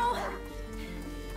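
A hunting dog whimpers and yips in A Plague Tale: Innocence, high plaintive cries at the start and end with a low rumbling backdrop between.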